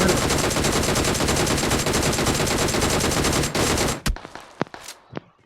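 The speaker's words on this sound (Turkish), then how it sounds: "bir dünya mermi sıktım" Rapid sustained automatic gunfire from a player in a video game, dense and loud for about four seconds, then stopping into a few scattered shots and faint thuds.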